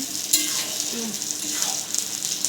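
Garam masala being stirred into a Bengali fish head muri ghonto made with katla head and gobindobhog rice, giving a bright continuous sizzle with soft scraping stirs and a few light clinks, close and fairly loud.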